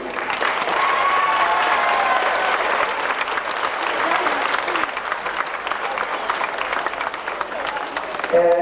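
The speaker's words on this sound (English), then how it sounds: "give a big round of applause to Co.Cavan team" Crowd applauding a County Cavan under-14 Gaelic football team after a GAA final and replay, dense sustained clapping with some cheering, loud and close, with a voice briefly heard over it.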